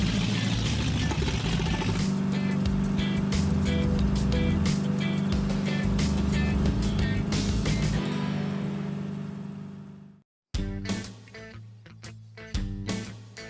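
Dodge Coronet engine running on the road, a steady low hum with some music-like tonal layers over it, fading out around ten seconds and then returning in short bursts.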